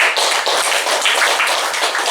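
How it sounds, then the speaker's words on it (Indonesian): Audience at a community health post event in a village hall clapping hands together, a dense, steady patter of claps close by with no talk over it. "Tepuk tangan itu"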